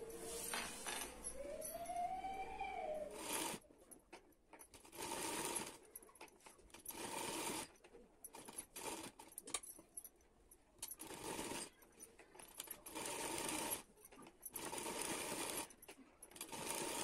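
A sewing machine runs in repeated bursts, stitching fabric piping onto a blouse neckline, each close mechanical whir lasting a second or two with quiet handling gaps between, no speech heard.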